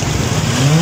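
A Suzuki Cultus with its M13 engine revs steadily close by, a loud continuous drone whose pitch rises slightly toward the end.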